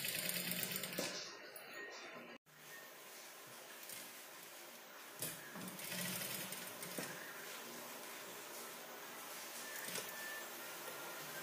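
A sewing machine stitching a simple model blouse along to the fabric edge, a quiet continuous whirring run that cuts out briefly near the start and then resumes steadily.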